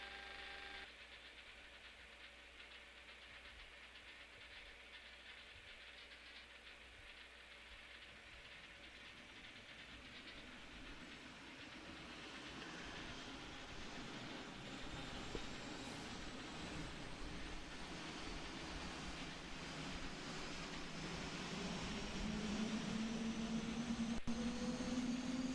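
Boeing 747-400 APU spooling up in the PMDG flight simulator, a steady rising turbine whine and rumble that grows louder over about 25 seconds, with a high tone emerging near the end.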